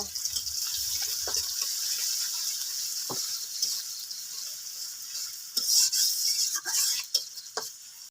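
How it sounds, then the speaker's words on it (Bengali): Chopped onions fry in a kadai until light brown, a steady close sizzle with intermittent scraping stirs and a few clinks, the hiss swelling louder near the end; no talk. "পেঁয়াজটা আছে হালকা বাদামি করে ভেজে নেব"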